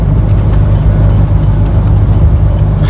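Dense road traffic heard from a moving vehicle, a loud continuous engine and tyre roar with low rumble filling the whole stretch, no voices.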